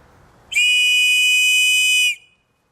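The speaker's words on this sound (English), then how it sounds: "This is an actual working gimmick survival whistle." A built-in survival whistle on an Opinel Explore folding knife gives one loud, steady, shrill blast of about a second and a half. It starts sharply and cuts off cleanly, with no other sound around it.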